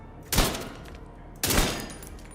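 Two sharp, loud exotic pistol shots in The Division 2, about a second apart, each a sudden crack followed by a short decaying tail.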